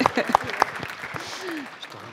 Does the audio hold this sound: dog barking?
no